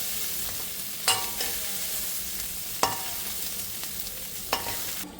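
Dried fish fries in hot oil, giving a steady soft hiss broken by three sharp spluttering pops spaced a second or two apart, heard up close with no one talking.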